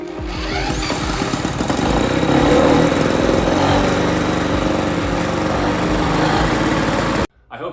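A 1955 Lawn Boy 8F20 two-stroke lawn mower engine runs loud and steady with a rough, buzzy drone for about seven seconds, then cuts out abruptly before a brief sputter at the end.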